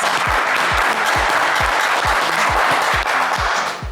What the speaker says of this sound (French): Et ça s'applaudit bien fort,